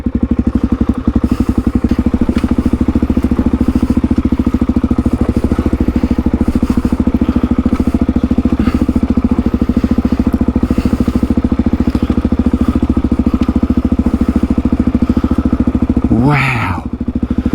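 Motorcycle engine running steadily and loud on a rough high country track in Victoria, Australia, with the clutch in and rear tyre dragging, a continuous close drone with clatter and thumps over bumps.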